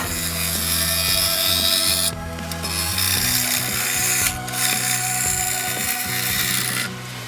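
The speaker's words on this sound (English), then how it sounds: "just a few more passes with the spindle rough and gouge and we'll be there." Spindle roughing gouge cutting a spinning wood blank on a lathe, making a steady loud rasping, chattering scrape with motor hum underneath, the cut briefly easing a few times as passes change.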